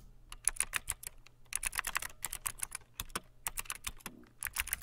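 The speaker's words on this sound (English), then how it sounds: "keyboard ASMR" Clicky computer keyboard typed in quick, uneven bursts of sharp, close keystrokes with short pauses between runs; no talking.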